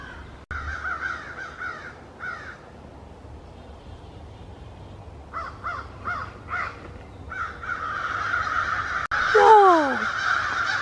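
A large murder of crows caws repeatedly in bursts of harsh calls at mid distance, building into a dense clamour, with an outdoor hum in the background.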